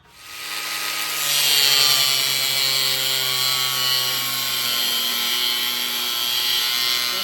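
A power tool whines steadily while cutting and drilling wood trim for a heavy-duty sliding truck drawer, a loud, sustained high-pitched tonal drone that ramps up quickly and holds for several seconds, with no talk.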